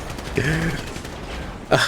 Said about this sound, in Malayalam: അലക്സിനിട്ട് സാവേജിൻ്റെ വക 2 വെടി.